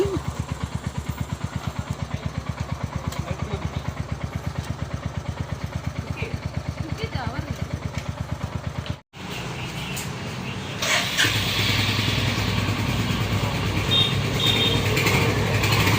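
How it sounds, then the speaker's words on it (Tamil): A new motorcycle's engine chugs in an even, rapid idle for several seconds, cuts out abruptly, then rises again into a rougher, louder running sound with background noise. "இந்த பைக் தான் புது பைக்"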